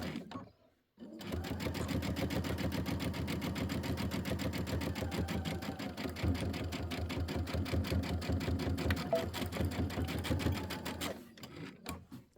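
A sewing machine runs at a steady fast pace stitching quilt pinwheel pieces, a continuous close mechanical chatter that starts after a brief pause and slows to a stop near the end.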